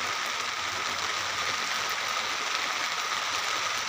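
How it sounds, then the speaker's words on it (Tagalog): Heavy pouring rain makes a steady, dense hiss that fills the whole stretch evenly, loud and close, with no voices over it. "Sige, buhos ang ulan."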